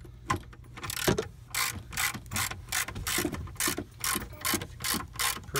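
A hand ratchet backing out 12 mm bolts during a fuel pump change on a 2004 Subaru WRX, rapid bursts of close clicking in a regular back-and-forth rhythm, a dozen or so strokes, with no talking.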